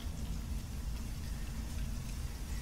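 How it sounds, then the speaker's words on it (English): Steady rain hisses without a break in a Sky Studio scene, a dense even patter with a low rumbling bed beneath it. No voices cut in. "we have a nice rainy scene here, and we have some lightning with thunder in the background"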